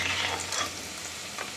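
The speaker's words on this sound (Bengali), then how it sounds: "দিয়ে এবার পনিরগুলোকেও লাল লাল করে ভেজে নেব, ভেজে তুলব" Paneer cubes frying in oil in a pan, a steady close-up sizzle and crackle with a few brief stirring scrapes and spatters, no voices.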